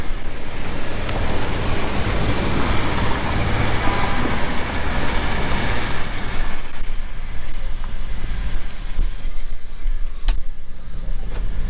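Steady stream of cars and trucks rolling past in a gridlocked protest backup in Lansing, Michigan, a continuous loud broadband traffic roar with no speech.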